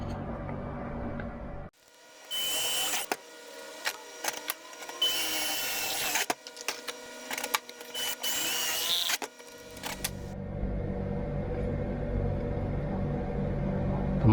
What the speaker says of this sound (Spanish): ahora voy a copiar con una broca de 4 milímetros estos agujeros en este panel